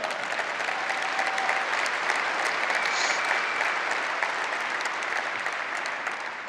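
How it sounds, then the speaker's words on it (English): Steady, dense applause fills a large conference general session in Las Vegas, an even wash of many hands clapping at a distance with no break, over six seconds. "you can applaud for him on that"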